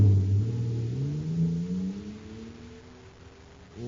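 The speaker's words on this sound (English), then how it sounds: "Listen to that fire-controlled jet car go now" Atomic fire-controlled jet car in a radio drama effect, an engine whine climbing steadily in pitch as it accelerates, then dropping away before a fresh surge at the end.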